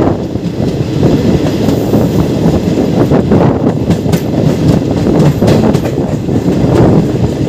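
A new Kolkata–Digha train runs loud and close into Tamluk Junction, with a steady rumble and a clickety-clack of wheels over rail joints going on without a break.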